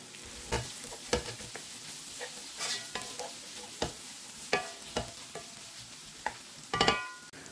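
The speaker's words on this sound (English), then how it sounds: "Fry your onions until light brown in color." Onions fry in hot oil for a lamb trotters paya curry, a soft steady sizzle broken by repeated sharp scrapes and clanks of a spoon stirring the pan, close and alone without talk.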